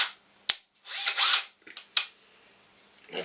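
A Vonroc 20V cordless drill, a two-speed model with a hammer function, gives a few short bursts: a click, a brief whirring run of about half a second, then lighter clicks and a quick blip, close and alone.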